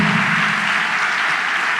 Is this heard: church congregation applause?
yes